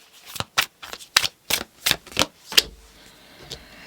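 Tarot cards handled in quick succession, about eight crisp papery slaps and flicks in an uneven rhythm, close and fairly loud, followed by a softer card or two after a short pause, with no talking.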